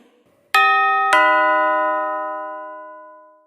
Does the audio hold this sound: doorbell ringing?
yes